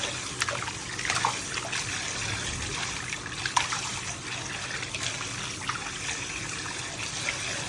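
Water runs and trickles steadily over raw pork being rinsed in several changes of water, close and continuous with occasional splashy spikes and no talking.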